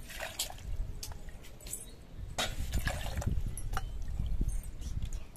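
Water is poured into a pan of ground roasted gram for laddu, giving bursts of splashing and trickling with a few soft drips between them, close and moderately quiet.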